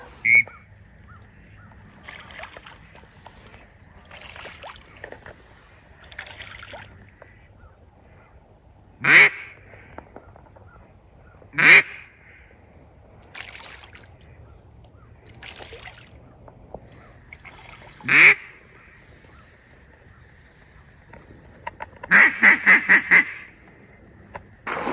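Ducks quack on a duck hunt over water in several loud, sharp bursts scattered through a quiet stretch, ending in a rapid run of calls, with faint background noise between them.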